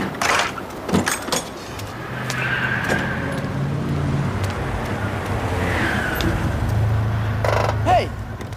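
Close by, a car rolls up and idles with a low engine rumble, framed by door and handling clunks and a rising motor swell, and voices come in briefly near the end.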